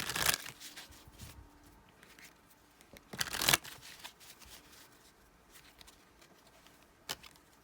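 Tarot cards being shuffled and pulled, with two loud riffling bursts near the start and middle, a sharp snap later, and quieter handling and rustling in between.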